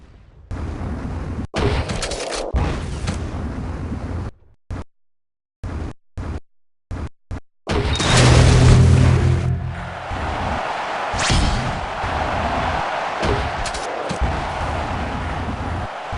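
Grenade blasts in a video game used for nade jumping while skiing over hills, a series of sharp dull bursts with gaps between them, then a loud sustained roar of blast and rushing noise.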